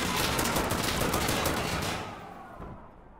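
Rapid gunfire and explosive mortar blasts in a match of the shooter game Insurgency Sandstorm, loud and dense at first, then tapering off into quieter scattered shots.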